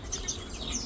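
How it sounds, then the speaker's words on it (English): Small birds chirp at a backyard suet feeder, with several short high tweets scattered over a steady hiss of outdoor background noise. "So I guess the birds like the suet."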